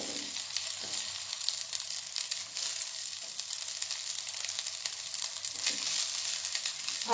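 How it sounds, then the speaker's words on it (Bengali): Cooked, cooled rice is stirred into a frying pan for Karnataka-style lemon rice, giving a soft continuous sizzle and hiss with light scraping of the stirring, close and fairly quiet, with no talk. "এবার ভাতগুলো মেশাবো"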